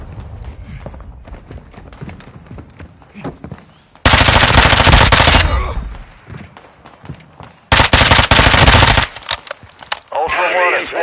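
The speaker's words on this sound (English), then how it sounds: "You are taking effective fire." Gunfire in the video game DMZ: loud bursts of automatic fire in two long stretches, with quieter clicks and shuffling between them and game voices heard underneath.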